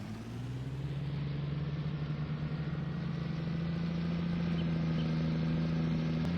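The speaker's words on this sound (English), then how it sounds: "Love the engine sound." A tractor engine in the Farming Simulator 19 video game drones steadily at a smooth, even idle-like hum that swells slightly and holds unbroken, with no talking.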